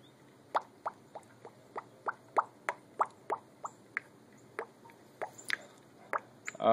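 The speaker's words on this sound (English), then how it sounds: "You don't want to pour too fast, because if the funnel can't keep up, it'll just pour right back out or overflow the sides." Motor oil pours through a funnel into a vehicle engine, heard as a quiet run of distinct glugging plops and drips at an irregular rhythm, fairly close, with no talking.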